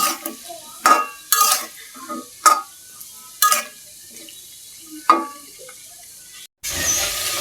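Potatoes and pointed gourd frying in a pan: a steady soft sizzle broken by several sharp scraping stirs with a spatula, each a bright rasp, ending in a louder crackling hiss, close up with no speech.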